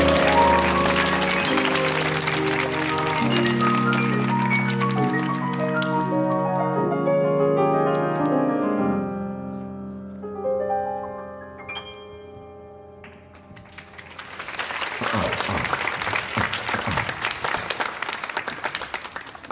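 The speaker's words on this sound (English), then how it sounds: "Everybody give a huge round of applause to Mr. Daniel Weatherspoon on keys." A concert audience at the Millennium Stage applauds a keyboard player. Ringing instrumental music fades out first, then a loud, sustained burst of clapping swells up near the end.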